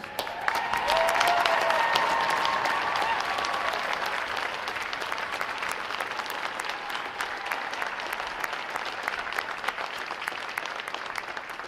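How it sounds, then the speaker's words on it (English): A large crowd applauds veterans at a U.S. Navy boot camp graduation, steady dense clapping filling a big venue for over ten seconds, holding level throughout. "Will our veterans please stand so we can give you a round of applause as well, please?"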